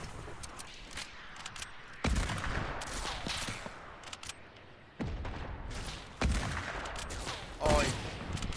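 Sniper shots and other gunfire in a Fortnite Battle Royale arena trio match, several sharp cracks spaced a few seconds apart, fairly faint against the game's background.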